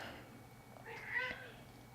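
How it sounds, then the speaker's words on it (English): A house cat chatters at birds while watching them: a short, faint burst of clipped vocal sounds lasting under a second, over a quiet indoor background. "My cat's looking at birds. He's talking to the birds."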